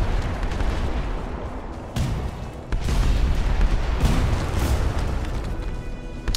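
Airship cannons firing in the naval-style battle game Airships: Kingdoms Adrift: loud, repeated booming shots land at irregular intervals over a constant rumble of battle, with no talking.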